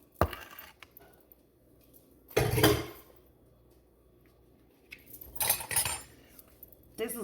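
A serving spoon scoops sifted flour in a bowl, giving a few quiet metallic clinks and two louder bursts of scraping and knocking against the bowl, with near-silent gaps between.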